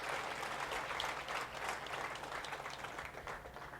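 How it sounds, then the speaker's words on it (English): At a driver appreciation event, an audience applauds an honoured driver: a short burst of fairly soft, dense clapping with some distance to it. "Let's give Diane a great big applause."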